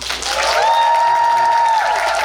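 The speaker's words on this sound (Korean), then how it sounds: "여러분 박수 한번 주시겠어요?" Theatre audience applause during a musical's closing-night curtain-call stage greeting, steady dense clapping with a sustained tonal whistle-like sound riding over it for about a second.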